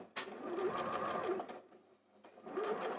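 Sewing machine driven by a foot pedal while piecing a quilt block, a close, quiet whirring run that pauses briefly and then starts up again.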